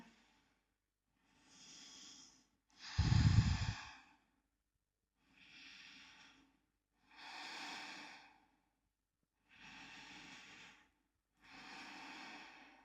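Slow, deep yoga breaths during a hatha flow: seven separate audible exhales and inhales, evenly spaced every couple of seconds, close and quiet, with one heavier sighing breath near the start.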